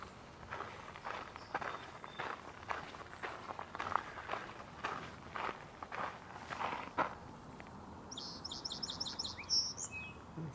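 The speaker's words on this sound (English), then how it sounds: "That's the song sparrow." A song sparrow sings at a marsh in breeding season, its short tweeting phrases coming near the end, after a long run of steady crunching footsteps that dominate most of the stretch.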